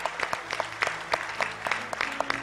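An audience applauds heartily at a regular prayer forum gathering, honoring a lawyer. A dense, steady burst of clapping from many hands fills the room with no break.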